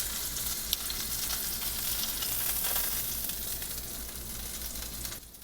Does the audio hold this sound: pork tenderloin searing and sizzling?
yes